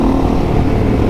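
A 450L motorcycle on its stock exhaust idles and revs at close range during a group ride, the engine's loud, steady hum holding for about a second with no voices over it.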